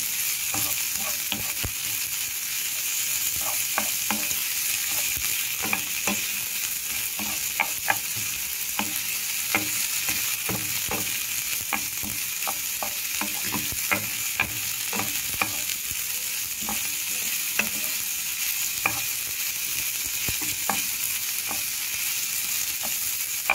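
Sautéed mung beans with meat (ginisang monggo) are stirred in a sizzling pan, with a constant hiss and a steady run of utensil clicks and scrapes from the stirring, and no voices.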